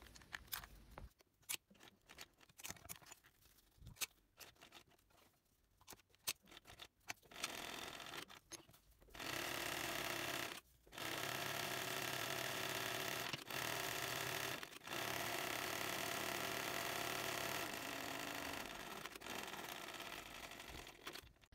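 A sewing machine stitches bag straps together during bag making, running in long, loud, steady bursts separated by brief pauses after a quieter start.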